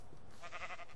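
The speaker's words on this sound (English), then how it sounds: "Oh, I found more sheep and pigs." A sheep in the video game Minecraft bleats once, a short wavering baa heard faintly against a soft background hum, with no talking.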